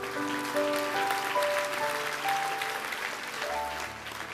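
Applause from a church congregation during a sermon, a steady broadband wash of clapping held at an even level for several seconds, with sustained musical tones from instruments beneath it.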